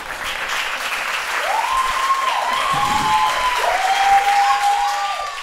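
Audience applause fills a bar during a stand-up comedy set: steady, dense clapping that holds throughout at moderate loudness, with a few whistles rising over it.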